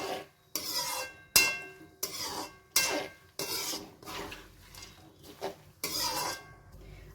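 Cashews dry-roasting in a pan for chivda, stirred in bursts of rattling, scraping strokes with brief pauses between, close and fairly loud.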